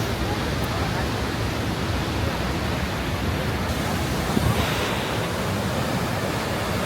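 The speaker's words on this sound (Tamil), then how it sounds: "ஓ அதிரப்பள்ளி ஃபால்ஸ்" Athirappilly waterfall in Kerala gives a steady, dense roar of falling water that stays close and even throughout, with no pauses and no other clear sounds on top.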